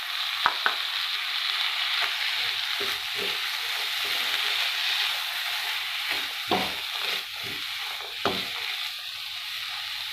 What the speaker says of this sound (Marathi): तेलामध्ये वाटाणे आपण छान परतून घेत आहोत. आता याच्यामध्ये ही मटकी पण टाकून घेऊ.